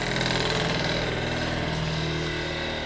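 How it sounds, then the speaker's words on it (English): A grinding stone sands the wood of a 250-year-old door, giving a loud, steady, motor-driven whine and abrasive roar that runs without a break and with no voices. "You shouldn't use a grinding stone to sand wood"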